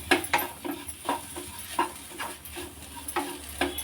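Coriander stems being stirred and fried in a pan for basale leaf sambar, with quiet scraping strokes and utensil clinks in an irregular rhythm over a faint sizzle.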